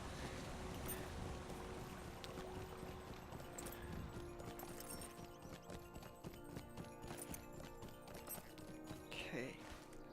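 A summoned horse in a video game trots along with steady, rhythmic clip-clopping hooves set in a busy game soundscape, while a player talks over it.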